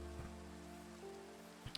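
Steady Minecraft rain patters softly and evenly in the background, a faint continuous wash beneath game music tones, with a couple of small clicks near the end.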